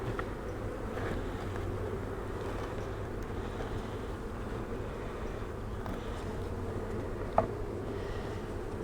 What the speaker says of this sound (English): So those bees up there ought to start working their way back down here, if the queen is down here